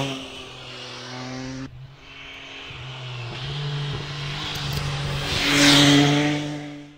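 An MV Agusta Enduro Veloce adventure motorcycle engine runs loud and close, a steady droning tone that shifts pitch partway through and swells toward the end.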